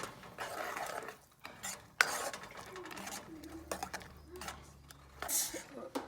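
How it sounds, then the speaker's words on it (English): Ginger and green chili stirred in hot ghee in a pan, intermittent scraping and spoon clatter over a soft sizzle, close by with brief pauses between strokes. "give it a good stir"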